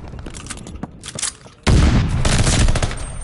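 Video game gunfire starts as scattered close shots, then turns into a sudden loud, dense burst of sustained automatic fire that keeps rattling to the end.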